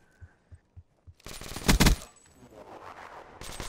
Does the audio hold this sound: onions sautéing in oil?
no